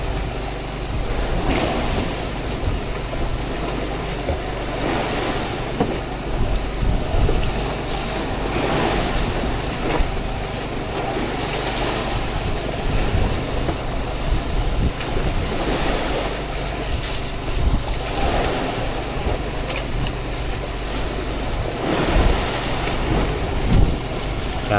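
Rainy weather out at sea from aboard a fishing boat, with a continuous roar of wind, rain and surging waves, louder gusts swelling now and then, and no voices.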